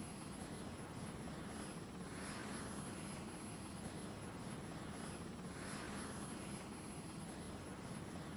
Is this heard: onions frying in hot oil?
no